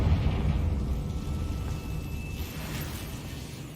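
A Confringo fire spell bursts in the video game Hogwarts Legacy, giving a low, rumbling explosion that fades over a few seconds, quiet and somewhat distant.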